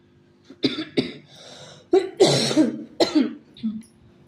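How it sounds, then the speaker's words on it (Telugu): Someone coughs in several harsh bursts, some doubled and some with throat clearing, spread over a few seconds in a quiet room. "2 months నుంచి అండి బాగా దగ్గు, అసలు ఏడిపించేస్తుంది."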